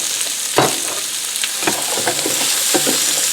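Chopped carrots sizzle steadily in a hot pot as the base for a bok choy ginger soup, a loud close frying hiss broken by scattered clicks and knocks of stirring.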